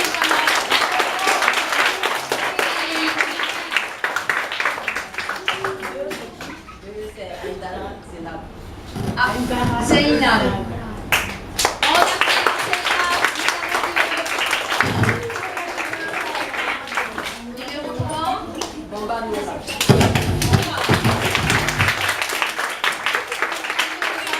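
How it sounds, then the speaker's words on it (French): An audience at a school reading-challenge final for fourth-graders applauds as the finalists walk in, with clapping running throughout under a presenter's talk and music-like tones. "On applaudit."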